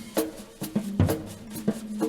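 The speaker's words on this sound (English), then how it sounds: "He's using one brush and then playing the toms with his hands, not with a stick." Soft, muted jazz tom drum hits struck by hand, mixed with light strokes from a single brush, in a loose, sparse rhythm of about eight beats.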